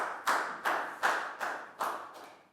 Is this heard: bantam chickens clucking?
no